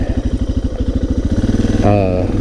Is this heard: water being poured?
no